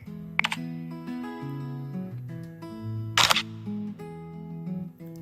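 Two sharp camera shutter clicks, well apart, over a steady tonal background hum, fairly close and crisp.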